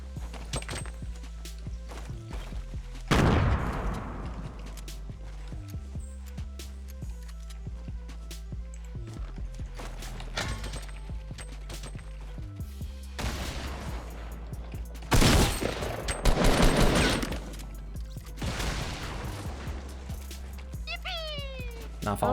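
Scattered gunfire from the Fortnite battle royale game, arriving as several separate loud bursts over a steady game soundtrack, with a person talking between the shots.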